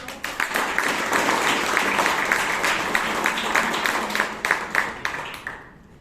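A round of applause from the audience at a Bangalore Toastmasters club meeting, individual claps distinct in a lively crowd, building briefly then thinning and fading out at the end.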